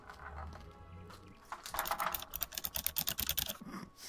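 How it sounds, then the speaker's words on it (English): Mechanical keyboard with Cherry MX Brown switches typed in a quick, busy run of clacking keystrokes, close and fairly loud, after a quieter stretch of background noise. "Those sound like cherry MX Brown switches?"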